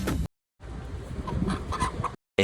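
A live chicken clucks in short bursts, close to the microphone, broken by brief gaps of silence.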